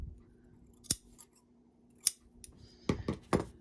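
Scissors snipping yarn on a knitted Halloween cowl, three or four crisp close cuts separated by quiet pauses, no voices.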